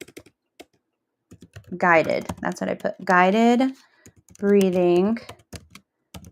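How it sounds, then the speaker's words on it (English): Clicking keystrokes on a computer keyboard rattle in short bursts, close and clear, mixed between spans of a person talking. "This is what I'm typing in for stress."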